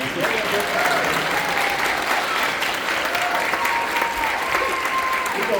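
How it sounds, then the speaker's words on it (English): Sustained audience applause at a school spring concert, a dense steady roar of many hands clapping with no break, loud and even throughout. "I need you to clap a little bit longer"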